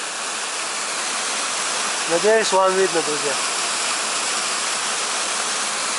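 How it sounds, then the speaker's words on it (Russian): A turbulent mountain river gushes out of rock at a rest base in Benoy, Chechnya, as a loud, unbroken roar of rushing water, with someone speaking briefly over it partway through. "Поток бурной реки выходит из скалы, скажем так."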